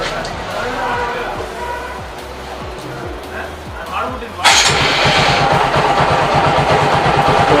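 A motorcycle starter cranks in a rapid rhythmic churn before the engine catches and fires into a loud, steady idle, with people talking nearby throughout.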